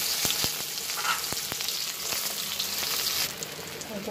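Two onions hiss in hot oil in a kadai for a prawn and taro-stolon curry, giving a dense continuous sizzle punctuated by several sharp spoon clicks against the pan.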